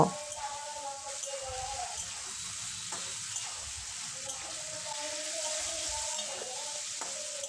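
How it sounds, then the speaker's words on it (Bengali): Ridge gourd and potato sizzle steadily in a pan as poppy seed and green chili paste is stirred through, with a continuous frying hiss and soft scraping of the spatula. "পোস্ত কাঁচা লঙ্কা বাটাটা আমি ঝিঙে আলুর সঙ্গে কিছুক্ষণ মিশিয়ে নেব"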